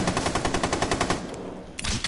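Rapid automatic gunfire from a PS4 shooter game, a steady loud burst of rounds that stops abruptly, followed by one more short blast.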